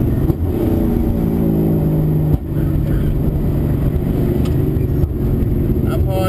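V8 race car on the Pukekohe circuit in Auckland, loud steady engine drone from inside the car, with a brief dip as it brakes and drops back to third gear.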